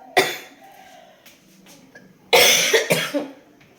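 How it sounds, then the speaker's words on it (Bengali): A person with a cough that worsens when lying down gives one sharp, close cough, then after a pause a harsher cluster of several coughs trailing into quiet breathing. "শুলেই কাশি হচ্ছে"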